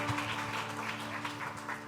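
Church congregation clapping together during a Sunday worship service, a steady, sustained patter of many hands filling the room, with a faint hum or organ drone underneath.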